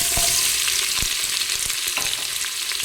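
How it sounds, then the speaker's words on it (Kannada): Onions sizzle steadily in hot oil for soya chunks pulao, a loud close hiss broken by a few sharp clicks as the spoon stirs them. "ಈಗ ಸ್ವಲ್ಪ ನೀರುಳ್ಳಿ ಫ್ರೈ ಆಗ್ತಾ ಬಂದಿದೆ"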